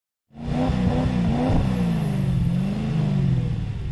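A Lamborghini Diablo engine in the ToCA Race Driver 3 racing game starts and holds a loud, steady revving roar with a gentle rise and fall in pitch, with no voices.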